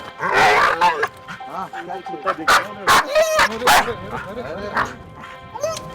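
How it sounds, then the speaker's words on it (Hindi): A husky barks and yips repeatedly in short, loud bursts close by, with people talking over and between the barks. "ये पहले से भौंके जा रहा है, ठीक है, शोर मचाया हुआ है इसने"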